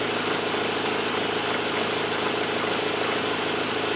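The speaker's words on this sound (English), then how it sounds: "That's just chatter in the axle." A continuous mechanical chatter and rumble from a Land Rover Defender's axle, steady and fairly loud, with an even, unbroken droning texture.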